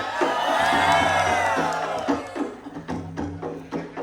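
A crowd at a youth social-services jamboree performance in Kuala Kapuas cheers and shouts loudly, a dense sustained roar that swells early and then breaks into bursts of whoops.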